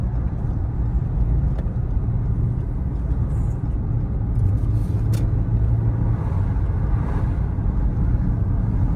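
A car cruises along a highway in the Irkutsk region toward Ulan-Ude, its steady interior rumble of engine and road noise constant and close, with wind buffeting the microphone.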